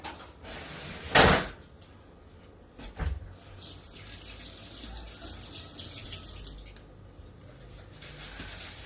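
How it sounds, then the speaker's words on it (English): A spoon is taken from a kitchen drawer while fritters are being made, giving a short clattering rattle followed by a softer knock and faint shuffling, quiet and close. "Let me get a spoon. I'm going to have to take out a spoon."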